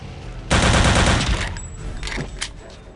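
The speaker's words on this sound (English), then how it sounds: "Here's a machine gun, and there should be a bunch of guys coming" A rapid machine gun burst rattles out loud and dense in Return to Castle Wolfenstein, lasting about a second before fading into trailing echo and a few scattered shots, with no talking.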